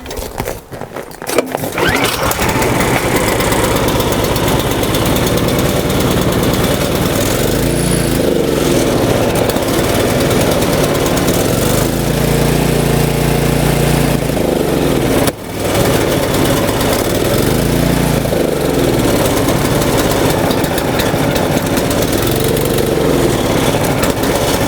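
A snowblower engine treated with Seafoam runs outdoors at about -4 °C, loud and close, its steady roar surging and dipping in uneven waves, with one brief drop midway.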